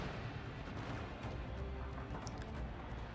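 Massed gunfire from a Shogun 2 battle between ranged units, a dense continuous rumble of overlapping shots and booms, steady and fairly loud throughout with no talk.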